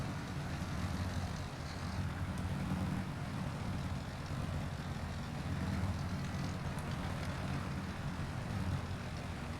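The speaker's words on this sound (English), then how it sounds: "Engine sound still playing." An aircraft engine in the Steel Aces combat flight game drones at a steady, even level throughout, a constant hum with no talk over it.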